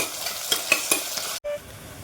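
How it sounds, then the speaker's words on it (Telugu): Onions and green chillies fry in a pan for tomato rice, with a steady sizzle under a few quick scraping stirs. A short clatter follows, then the frying continues quietly. No one speaks. "ఉల్లిపాయలు కలర్ మారేంత వరకు వేయించుకోవాలండి"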